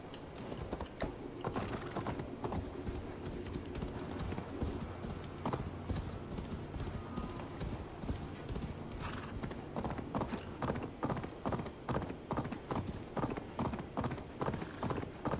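Rhythmic clip-clop of horse hooves at a steady trot in the video game Assassin's Creed Valhalla, even and repetitive, heard over a low background hum with no talking.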